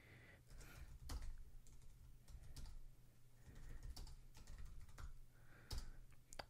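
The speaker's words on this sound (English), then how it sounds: "I can kind of type away" Steady typing on an Apple Magic Keyboard gives a run of soft, quick key clicks with occasional sharper taps, faint and close over a low background hum.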